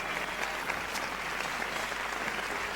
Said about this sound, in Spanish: Que se sienta fuerte el aplauso